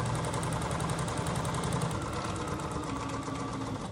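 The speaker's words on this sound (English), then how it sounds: "pop it under the presser foot and start stitching." A sewing machine stitches quilt patches with a steady, fast mechanical whir and rapid needle clatter that runs continuously from start to finish, close by, with no voices.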